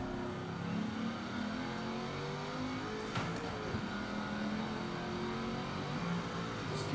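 A 2005 Saleen S7 twin turbo accelerates hard, its engine droning steadily from inside the car with rising, sweeping harmonics and no pauses.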